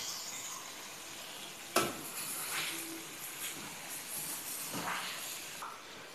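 Chicken pieces go into a hot pan with onions and ginger-garlic paste for a home-made chicken karahi, setting off a sudden sizzle that settles into a steady frying hiss, with stirring scrapes and another burst of sizzling later.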